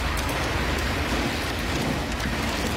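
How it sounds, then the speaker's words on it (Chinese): Heavy downpour lashed by gale-force winds in Taipei forms a dense, unbroken roar of rain that stays loud and even throughout, with no voices. "暴雨夹杂着九级狂风"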